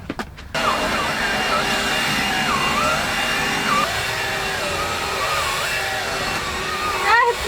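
A cordless vacuum cleaner whines steadily as its battery runs down, the motor pitch wavering and sagging while it struggles, with a brief stop near the start and a surge at the end.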